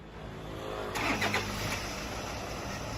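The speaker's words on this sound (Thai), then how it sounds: "วันนี้มาส่งงานกับ Toyota Fortuner นะครับสตาร์ทรถครับ" A Toyota Fortuner's engine cranks and fires about a second in, settling into a quiet, steady idle heard from close by at low level.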